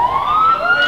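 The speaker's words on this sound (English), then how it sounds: "He's heard the siren." Siren of an Irish Garda police car rising in pitch as it draws closer, a loud continuous wail heard alone with no talking.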